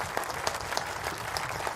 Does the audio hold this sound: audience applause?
yes